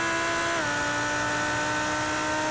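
A steady, high-pitched Audi GT race car engine whine in a sim racing game holds a constant drone, dipping slightly in pitch partway through as if shifting gear, loud and uninterrupted.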